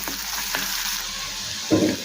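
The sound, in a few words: sliced onion frying in oil with black cumin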